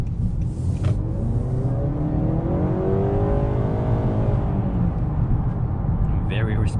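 A 2021 Honda Accord Hybrid accelerates on the road in a steady rumbling rise of engine and road noise, with a rising tone partway through. Someone talks over it.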